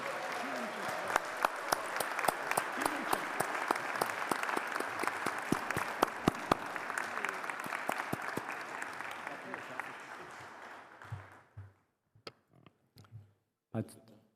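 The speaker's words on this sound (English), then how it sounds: "I want you to give them a big hand of applause." An audience at an international chefs' congress medal ceremony gives culinary icons a big round of applause, dense sustained clapping with sharp individual claps that thins out and dies away into a few scattered final claps.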